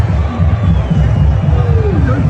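A large outdoor crowd at a Donald Trump rally in Butler, Pennsylvania makes a loud, continuous murmur of overlapping voices and movement, a steady babble with no single voice standing out.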